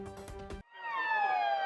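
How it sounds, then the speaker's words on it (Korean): A Korean fire engine rushes to a house fire in a crowded residential neighbourhood. After a brief voice, its loud siren wails in, sliding down in pitch and then holding a strong, steady howl close by. "급히 소방차가 출동했지만"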